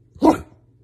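A single close, loud bark from a dog answering a spoken command, a short sharp woof standing alone in quiet.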